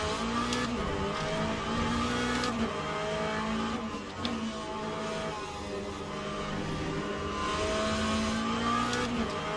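Race car engines in Assetto Corsa, Aussie racing cars at Knockhill: loud, continuous engine roar with shifting pitch and revving as cars pass close by, with occasional higher whines and no talking.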